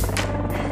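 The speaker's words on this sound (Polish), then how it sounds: "Helikopter lata nad szczytami." A helicopter flying over mountain peaks near Monte Baldo, its rotor drone steady and fairly close, filling a short moment with a continuous low throb.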